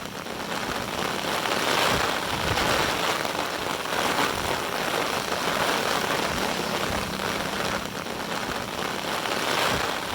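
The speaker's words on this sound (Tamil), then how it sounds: "கொட்டி தீர்த்த கனமழையால் காட்டாற்று வெள்ளம்" Heavy downpour during a flash flood, picked up by a CCTV camera: a dense, steady roar of rain and rushing water, loud and unbroken throughout, with no voices.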